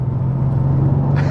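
A Mercedes C63 AMG engine hums loud and steady from inside the car while driving, a low droning note holding throughout with a brief brighter rise near the end.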